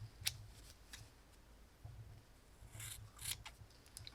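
Scissors snip the loose yarn ends of a drawstring on a crocheted man's hat in a few quiet, close cuts, with small clicks and rustles between them against a faint background hum.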